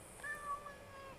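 A cat in the video game Assassin's Creed Origins gives a short, rising-and-falling meow, clear and fairly close over a faint game background hum.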